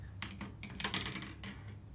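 Scissors snip a small notch into fabric with a handful of quick, crisp clicks at close range. The cuts are quiet and irregularly spaced.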